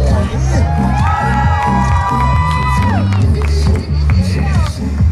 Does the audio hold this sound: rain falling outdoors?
no